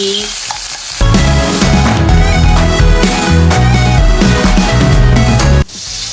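Crab curry sizzles loudly and steadily in a pan while it is stirred, a dense continuous frying hiss with thick low rumbling that begins suddenly and stops just as abruptly.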